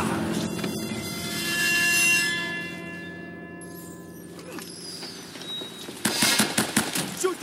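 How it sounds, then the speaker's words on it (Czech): Gunfire in the video game Uncharted: Drake's Fortune plays against tonal game sounds, ending in a cluster of loud rapid shots near the close. "tady se prostě de facto jenom střílí"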